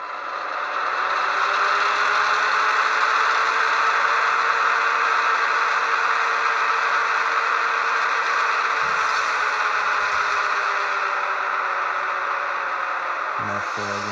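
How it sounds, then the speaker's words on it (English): An HO scale EMD SD7 model locomotive's sound decoder plays dynamic braking: a steady, loud broadband whine and roar that holds evenly throughout, with a faint rattle near the end and no talking. "Moving on, number 4 is dynamic braking."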